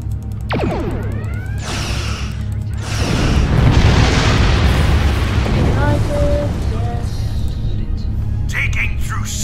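Energy weapons fire at floating debris nacelles in the space game Star Trek Online, producing loud, sustained booming blasts and explosions with sweeping synthetic tones, continuous throughout and fairly close.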